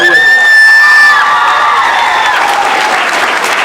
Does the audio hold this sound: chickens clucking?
no